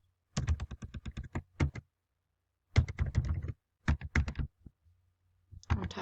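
Computer keyboard keys tapped in fast bursts while entering a password, clear close clicks in three quick runs separated by silent gaps.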